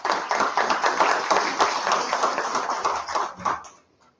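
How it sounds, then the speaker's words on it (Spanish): Attendees at a law lecture applaud a visiting professor, a lively burst of many hands clapping close by that swells, holds for several seconds, then tapers off into silence. "lo recibimos con voto de aplausos."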